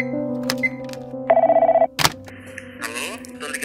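A telephone rings in a short, pulsed burst partway through, set among scattered knocks and thuds, with a voice-like sound following it. The setting is a town in the Sertão Central region of Brazil in late 2020.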